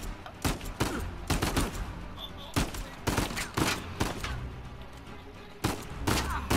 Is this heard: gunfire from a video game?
yes